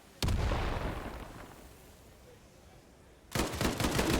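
Gunfight in Call of Duty Vanguard during an esports grand final: a sudden loud volley of shots that decays, a quieter stretch, then another heavy burst of gunfire, close and punchy.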